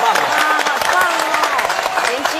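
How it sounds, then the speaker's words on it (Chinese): Studio audience on a Taiwanese variety talk show claps and cheers in a dense, steady burst lasting a couple of seconds, with voices mixed in. "来，掌声鼓励"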